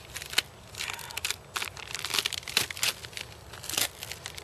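Packaging of a Record Rack mineral block being cut open outdoors: irregular crinkling and tearing of plastic, with scattered sharp crackles over a faint hiss of background noise, no talking.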